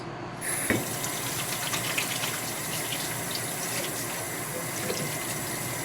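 A tap runs steadily into a sink during handwashing, a soft, continuous stream of splashing water with a small clunk near the start and no voices.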